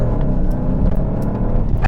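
2024 Porsche Panamera launching from a standing start, a loud dense engine roar with road rumble from inside the cabin, sustained across the short burst.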